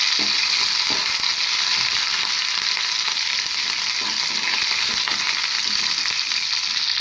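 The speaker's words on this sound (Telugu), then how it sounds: "తాలింపులు కరివేపాకు ఎనిమిరపకాయలు ఉల్లిపాయలు తాలింపు నూనె వేసి" Curry leaves, chillies and onions crackle in hot oil as a tempering for an okra stew, a loud, steady hiss of frying with faint occasional stirring clicks, and no voices.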